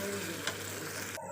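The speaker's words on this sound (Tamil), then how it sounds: "மசாலா போட்டு ஒரு 2 நிமிஷத்துக்கு வதக்கிக்கோங்க." Masala and onions sauté in a hot pan for paneer kuzhambu, giving a steady, close crackling sizzle with a faint stir at one point.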